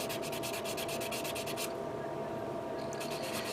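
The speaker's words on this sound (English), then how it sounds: "Right now I'm going to use a coarse, this 400, which is very, very coarse grit sanding sponge" Coarse 400-grit sanding sponge rubbed back and forth over a surface in fast, even strokes, a close scratchy rasp that pauses for about a second before starting again.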